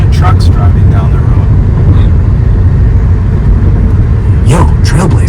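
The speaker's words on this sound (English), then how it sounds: "A lot of trucks driving down the road." Trucks drive along a road in northern Iowa heard from inside a moving car, a loud constant low rumble of road and engine noise with a couple of passing whooshes, while a person talks over it.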